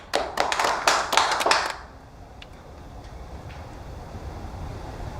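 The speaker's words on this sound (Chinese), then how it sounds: "大家鼓掌欢迎。" A small group claps to welcome guests at a gathering of officials and residents, a short burst of applause lasting under two seconds before it fades into quiet room tone.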